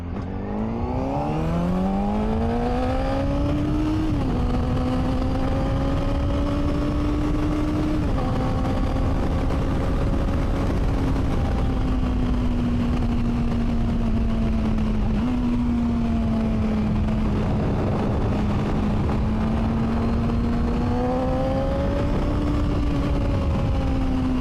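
A Honda CBR600RR engine drones continuously while riding, its pitch rising through gears, dipping and climbing again under wind rush.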